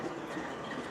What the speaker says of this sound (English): The train stopped right next to where we're shooting, parked the engine right next to the set